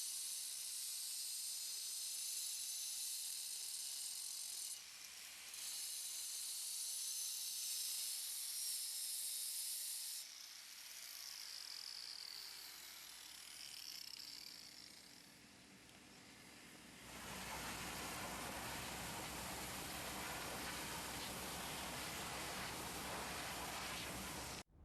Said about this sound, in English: to open it up with a vertical diamond blade. And so we're going to cut that out right now to get to good clean concrete.